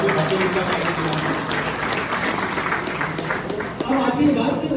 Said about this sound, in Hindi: लेकिन तालियां बजा सकते हैं भारतीय जनता पार्टी के नाम।